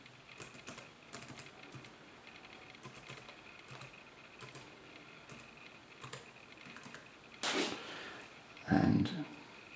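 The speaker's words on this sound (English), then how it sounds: "And I just need to type in the password." Keys tapped on a keyboard to enter a Wi-Fi password while setting up an Honor XD20 mesh router, quiet and close, with a couple of louder knocks near the end.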